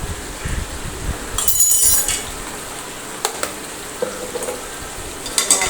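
Vegetables frying in a pan as coriander-cumin and red chili powders are stirred in, giving a soft steady sizzle with scraping and a few light clinks of a utensil against the pan.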